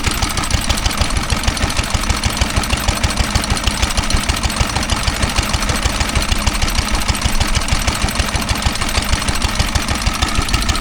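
A Lister D stationary engine driving a pump runs steadily at a country show near Ringmer, Sussex, a loud, regular rapid thumping beat that holds through the whole stretch with no talk.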